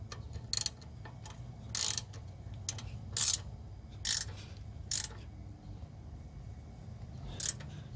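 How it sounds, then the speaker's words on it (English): Ratchet wrench turning a nut on the front upper control arm of a 2003-2009 Toyota 4Runner: short bursts of quick metallic clicking, about seven separate spurts spaced unevenly, close and crisp over a quiet garage background. "So I'm gonna put the ratchet on the nut and the hex socket in the stud."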